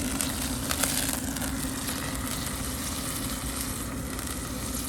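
Marsala wine flames in a pan of mushroom risotto, giving a steady, fairly loud hiss and sizzle with faint crackles that runs unbroken from start to finish.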